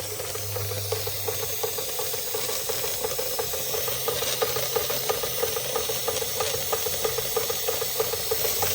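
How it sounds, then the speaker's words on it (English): A rare Marklin 16051 twin-cylinder toy steam engine runs steadily on its original burner, a continuous close hiss of escaping steam over fast, even mechanical ticking and light rattling that holds for the whole stretch. "You can hear that. It's doing its thing. Releasing steam before it gets to the red."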